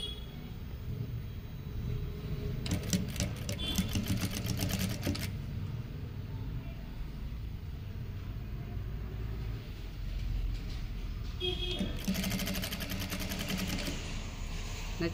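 A sewing machine stitching a half collar neck runs in two fast, rhythmic bursts of rattling stitches, separated by a quieter pause with low background hum.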